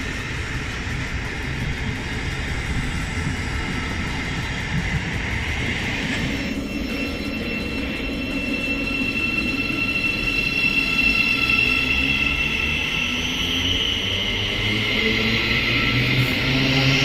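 Electric motors of a Siemens Desiro City Class 700, 707 or 717 train whine with rising tones as it accelerates, steady loud rumble and rail noise throughout, no talk.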